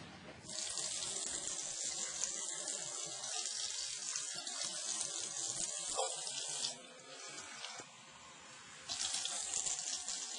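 A tap runs steadily, a continuous hissing stream of water splashing into a sink, close and fairly loud, with a brief dip in flow partway through before resuming.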